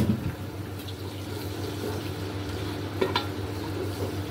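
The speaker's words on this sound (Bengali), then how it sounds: "এখন আমি এই পেঁয়াজ বাটাটা দিয়ে আবার কতক্ষণ নাড়াচাড়া করব, মানে ভালো করে ভেজে নিব।" Onion paste and a ground paste of nuts, nutmeg and mace fry in a pan for chicken rezala, a soft steady sizzle with a low hum beneath and a few brief utensil scrapes, clearest near the third second.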